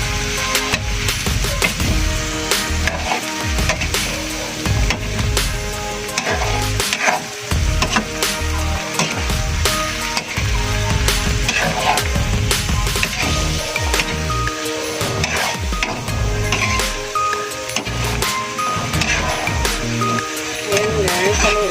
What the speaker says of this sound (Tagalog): Ayan guys, haluin lang natin.